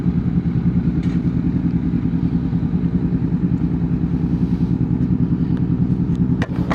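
A Honda CB500X motorcycle engine idling nearby, a steady low throbbing rumble at constant level, with a couple of small clatters near the end.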